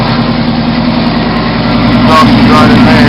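A lifted 1996 Ford F-150 idles after a cold start, its loud exhaust giving a steady, deep rumble close by. Someone talks over the engine near the end.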